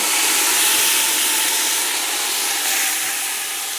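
Reserved flavourful oil poured back into a hot pan while cooking a Moroccan lamb tagine, producing a loud, steady steamy hiss that stays fairly even and fades slightly toward the end, with no talk.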